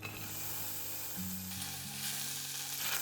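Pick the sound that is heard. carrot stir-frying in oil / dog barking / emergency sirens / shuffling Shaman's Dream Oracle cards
carrot stir-frying in oil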